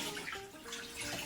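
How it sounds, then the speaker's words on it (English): Soaked, swollen mung beans rinsed under running water in a jar with a mesh stainless steel lid, a steady close splashing wash with no talk. "So now I'm just going to rinse them out."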